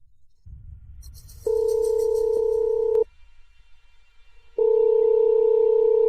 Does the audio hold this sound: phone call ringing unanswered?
yes